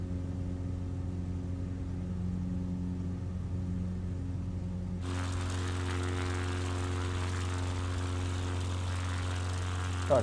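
Steady propeller drone of an XCub light aircraft in Microsoft Flight Simulator, a constant engine hum with strong low harmonics that shifts pitch and grows brighter partway through, continuing alone without talk.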